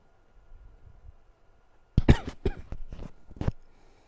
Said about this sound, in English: sorry about the heavy breathing and coughing, guys